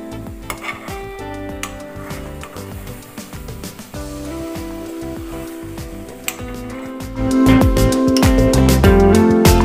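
Bread soaked in milk cooks in a pan for a bread honey dessert and is stirred. Scraping and soft metallic clinks sit over a simmering sizzle that grows louder toward the end.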